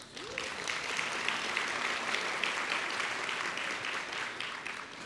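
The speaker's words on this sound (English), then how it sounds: "How about a round of applause?" A luncheon audience at a women's leadership event breaks into steady, dense applause that fills the room evenly for several seconds without pause.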